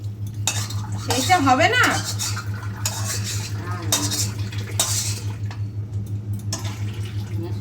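Tea being made in a home kitchen: a spoon clinks and stirs against cups and pots in quick repeated taps over a steady low hum, with brief talk.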